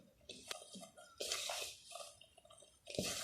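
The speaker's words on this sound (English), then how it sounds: "So let's go ahead and add some water." Water is added little by little to rice flour in a bowl, giving quiet drips, soft wet squishes and light splashes in short irregular bursts, close up.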